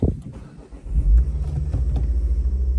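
A white 2010 Ford Focus RS Mk2 2.5 engine turns over and catches, then settles into a low, steady idle rumble close by, with a slight flutter.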